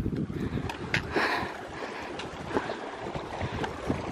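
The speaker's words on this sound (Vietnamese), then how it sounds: "Tiếng suối róc rách." Mountain stream babbles steadily in the highlands on a trek to Lao Than peak, a close, continuous rushing wash of water with wind buffeting the microphone.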